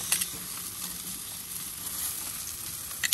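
Chicken sizzling in a pan or on a grill as it is flipped and sauced, a steady close crackling fry with a few brief bursts of spattering.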